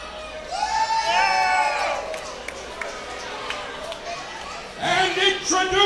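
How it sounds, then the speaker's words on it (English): Spectators at a CCW Bash at the Brew wrestling show cheer and whoop, loud at first, then settle into a steady murmur before swelling again, with a voice over the crowd. "Give him a round of applause."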